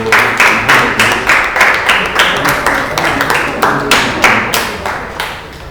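Loud, steady rhythmic clapping at a traditional Rwandan wedding, roughly two claps per second, like a group clapping in unison.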